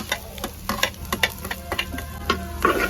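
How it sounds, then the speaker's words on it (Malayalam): Ginger and garlic stirred in coconut oil for a mutton head fry give a low sizzle under a quick run of sharp, rhythmic spoon taps and scrapes against the pan, with no talking. "നന്നായിട്ട് ഇളക്കി കൊടുത്ത് നല്ല അടിപൊളിയായിട്ട് സെറ്റായിട്ട് എണ്ണയിൽ നന്നായി വേണം കേട്ടോ."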